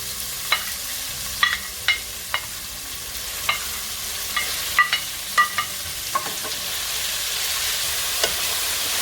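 Cuttlefish with spices frying in a pan, a continuous hissing sizzle broken by sharp, scattered spoon scrapes and taps against the pan, close and clear, with no talking.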